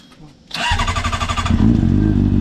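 A motorcycle engine cranks and catches after a moment of quiet, then settles into a loud, steady running idle close by.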